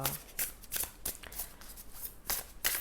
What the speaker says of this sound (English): so let's pull the cards and सी आपका महीना कैसे जाएगा एरीज